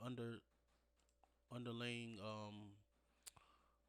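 Computer mouse clicks in music production software while making a boom bap beat: a few sharp, close clicks in the pauses between a man's speech.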